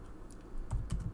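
Someone types code on a computer keyboard, giving a brief cluster of soft, close keystrokes with faint clicks in a quiet room.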